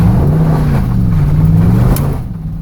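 A 2010 Ford Explorer in two-wheel drive accelerates on a stone road, with a loud, close engine drone that rises slightly, holds, then eases off.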